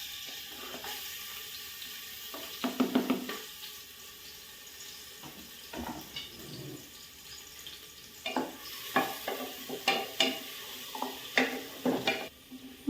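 Chopped ginger, garlic and chilli fry in a pressure cooker, with intermittent sizzles and stirring scrapes that come in bursts, close but quiet, over a low background hum.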